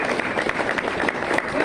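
A conference audience at a tech talk applauds in a steady, dense wash of clapping that fills the whole stretch without letup.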